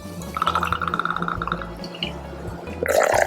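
Dry vermouth pours from a small bottle into a cocktail being mixed, a short gurgling trickle of liquid at close range with a few dripping splashes.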